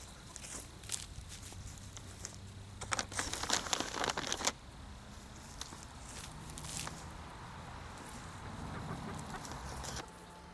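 Chickens cluck and scratch nearby in a quiet outdoor setting, with crinkling rustles and a few louder scuffling bursts in the middle.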